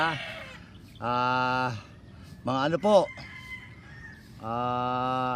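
Young gamecocks on a breeding farm give several bursts of harmonic clucking and calling, loud and close, separated by pauses, with a person speaking briefly between the calls.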